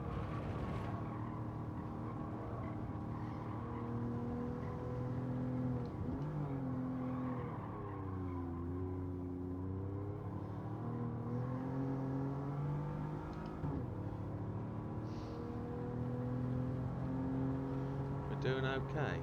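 A Toyota Alphard Executive minivan driven in Gran Turismo 7 on the Autopolis circuit, its engine droning steadily and loudly throughout, pitch climbing and dipping as it accelerates and eases through corners.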